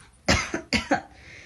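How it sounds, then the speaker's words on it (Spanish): Two coughs, from someone irritated by household dust while moving belongings, come in quick succession, each a short double burst, close and clear, with no talking. "me empezó una escurriera de nariz y una tos porque yo creo que el polvo"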